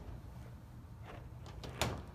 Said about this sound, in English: so you have to shut this door